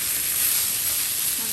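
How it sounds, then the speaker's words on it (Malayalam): Sliced onions fry in a pan for ghee rice, giving a steady, close, even sizzle with no pauses and no talk. "അപ്പോൾ ഓണിയൻ ഇങ്ങനെ ഫ്രൈ ചെയ്തെടുത്തു."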